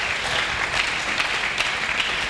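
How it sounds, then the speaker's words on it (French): A church congregation applauds loudly at a sermon, with dense, sustained clapping filling the whole moment and no pauses or speech over it. "Est-ce que nous pouvons acclamer très fort?"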